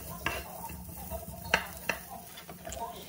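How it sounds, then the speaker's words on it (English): Carrots being stir-fried in a pan for fried rice noodles: a quiet background sizzle broken by several sharp clinks of a utensil scraping and tapping the pan, close by. "So I need slightly longer time to stir fry the carrots."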